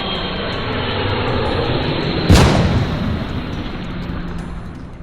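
Jeju Air Flight 2216, a passenger plane that slid down a runway without its landing gear open, hits a wall and explodes, a sudden loud boom rising over a steady roar and then fading into rumble.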